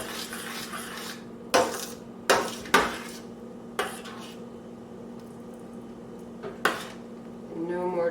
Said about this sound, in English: Make sure you're scraping your sides and your bottom.